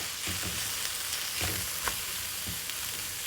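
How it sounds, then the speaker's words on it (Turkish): Onions sizzling in hot oil alongside chicken pieces in a pan for a mushroom chicken sauté, a steady close crackle with a few soft stirring scrapes, and no talking. "Soğanımızı da ilave ediyorum. Biraz da soğanları böyle bir sararmasını bekleyeceğim."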